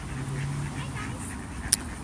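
Domestic ducks quack faintly at a distance in the background, with a low hum and a soft click, under light outdoor ambience.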